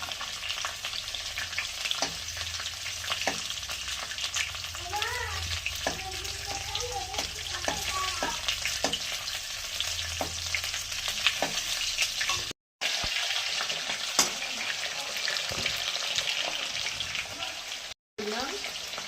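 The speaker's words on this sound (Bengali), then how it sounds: "দুটো শুকনো লঙ্কা দিলাম ফোড়নে, একটু কালো জিরে দিলাম, দুটো তেজপাতা দিলাম।" Whole dry red chillies, black cumin and bay leaves tempering in hot oil for a Bengali fish curry with potato, bori and flat beans, a steady close crackling sizzle with stirring scrapes throughout and two brief dropouts.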